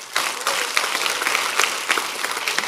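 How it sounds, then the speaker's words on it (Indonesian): A church congregation in Jakarta breaks into brisk, lively applause during a sermon, a loud, crackling wash of many hands with a few sharper claps poking through. "Tepuk tangan."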